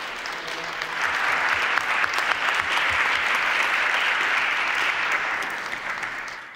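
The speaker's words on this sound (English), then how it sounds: "That's another fine round of applause there." An audience at the end of a lecture on technology and consciousness breaks into applause. The clapping rises quickly and holds dense and even for several seconds before tapering off, with no voices over it.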